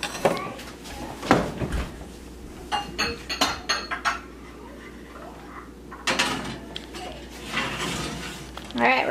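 Clatter of a baking dish being handled and slid into a home kitchen oven, with clinks, knocks and a door bang in short bursts, under intermittent talk nearby.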